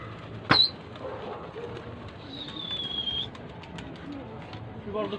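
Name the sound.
pigeons cooing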